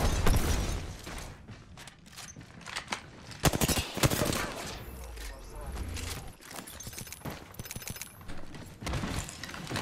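Rapid bursts of automatic gunfire crackle through an Apex Legends match, sharp repeated shots in clusters mixed with game effects, while a player talks over the action.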